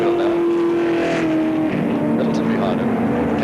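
A sprint car roars past on a speedway track at Speedway Park in Adelaide in 1980. Its engine holds a loud, steady drone that shifts in pitch as it passes, and a commentator talks over it.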